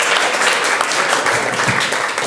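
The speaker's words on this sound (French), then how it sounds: "Oui, Aude, on peut applaudir aussi" Dense, continuous audience applause fills the room at a live Breton folk stage performance, even and loud throughout with no pauses.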